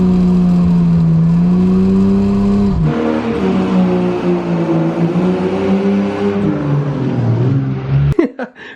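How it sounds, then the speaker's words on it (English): An old BMW car does a burnout, its engine revving hard in a loud, sustained howl with shifting pitch, then cutting off abruptly near the end with a brief rattle. "Be rude not to do a little burnout"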